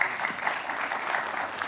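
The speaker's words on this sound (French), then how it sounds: "On peut les applaudir." Applause from a conference audience at a Europe–Africa forum, a steady patter of clapping that stays moderately loud throughout, with no voices on top.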